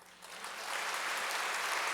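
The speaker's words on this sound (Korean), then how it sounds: "한번 박수 한번 해주세요" Church congregation applause swells quickly from a soft start into a steady, full wash of clapping that holds to the end.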